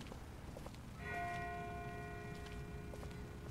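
A distant bell rings in The Walking Dead video game, a single clear metallic strike that rings out and slowly fades, faint and far off over low ambient background.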